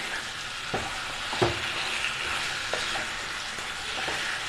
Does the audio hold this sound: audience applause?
no